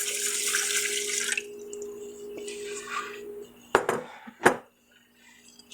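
Water runs from a tap into a pot for cooking rice in a home kitchen, a steady hiss for over a second that fades, followed by a few sharp clanks of the pot being handled.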